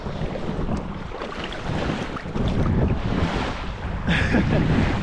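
Baltic Sea surf at Erstaviksbadet beach in the Erstavik Nature Reserve, Sweden, with waves washing in steadily and gusts of wind buffeting the microphone, swelling louder in the final seconds.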